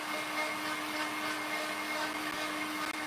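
A hairdryer or heat gun blows with a steady, close, even whoosh and a constant hum, running without a break for a few seconds and stopping abruptly just before the end.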